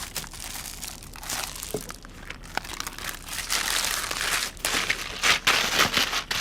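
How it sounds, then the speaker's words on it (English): Raw chicken pieces being squelched and squeezed by hand in a wet shawarma marinade with salt and bay leaves, a close, continuous crinkly squishing that grows louder and more vigorous toward the end. "Serious bit of squelching to do now."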